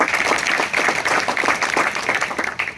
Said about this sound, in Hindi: इनके लिए भी जोरदार ताली बजाते